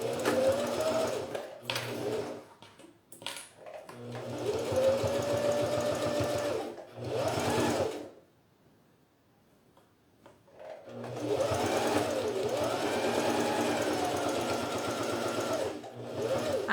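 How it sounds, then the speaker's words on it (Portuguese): Sewing machine stitching the side of a fabric toiletry bag: several close whirring bursts of varying length, broken by brief stops and a longer silent gap midway before the stitching resumes. "a gente vai arrematar aqui no início e vai costurar a lateral"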